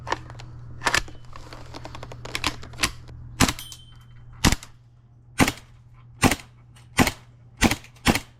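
An airsoft gun fires BBs in a series of about a dozen sharp, close snapping shots, irregular at first and then evenly spaced, over a low steady hum.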